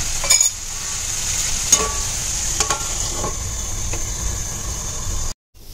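Stuffed tinda vegetables cooking covered in a pan on medium-high gas, a constant soft sizzle and hiss with a few faint clinks, close and steady until it cuts off abruptly near the end.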